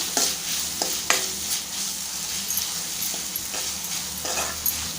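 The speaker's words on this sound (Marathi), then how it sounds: "इथे एक छोटी वाटी हिरवा वाटाणा घेतलेला आहे, ते टाकायचं आपल्याला। परतूया।" Green peas and chopped capsicum are tossed and stir-fried in a hot pan for spicy masala noodles, giving a steady sizzle broken by a few sharp scraping clatters of the spoon.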